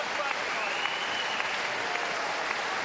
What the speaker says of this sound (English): Generous applause around the D-side leisure centre here.